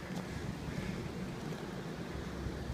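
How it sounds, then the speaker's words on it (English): Strong outdoor wind buffets the microphone in a continuous low, rough roar with no pauses, in a muddy yard beside a blacksmithing forge. "it's too windy today"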